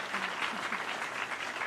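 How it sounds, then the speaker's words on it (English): An audience claps steadily at the 33rd annual Emerald Awards for environmental excellence, a dense, even wash of many hands across a large room, sounding somewhat distant and soft, with no speech over it. "Give yourselves a round of applause for being here."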